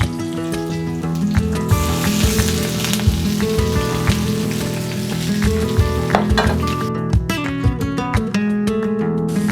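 Mushrooms and broccoli sizzle and fry in a paella pan for a vegan paella, a steady loud crackle with occasional clinks and stirring scrapes throughout, no talking.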